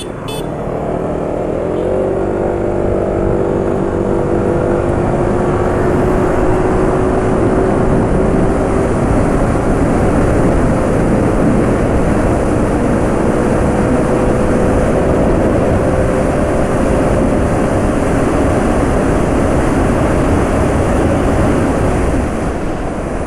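A scooter engine fitted with Maxious Syntomix oil hums loudly while slowly losing revs under engine braking, with a gradual falling whine over strong, steady wind noise.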